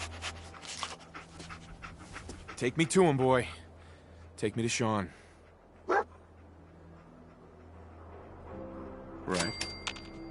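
Dogmeat, the dog companion in Fallout 4, pants steadily and lets out a few sharp barks and yips close by, while someone talks to the dog over game ambience.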